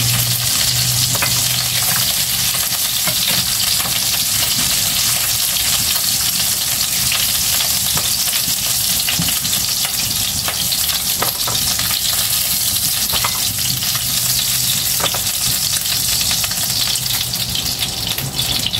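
Pork ribs browning in frying oil for plum pork ribs crackle and spit with a loud, dense, unbroken sizzle, heard up close for the whole stretch, with scattered sharp pops and no voices.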